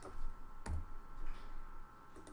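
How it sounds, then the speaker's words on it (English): Typing on a computer keyboard, a few soft, scattered key clicks at close range against a quiet room background, with no speech. "And I'm going to type out burnt by dad."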